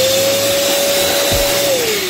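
An electric air blower whooshes and whines steadily as it blows dust out of a PC fan, a loud, continuous high-pitched motor drone whose pitch drops slightly near the end.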